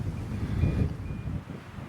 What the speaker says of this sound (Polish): Ale wieje znowu tutaj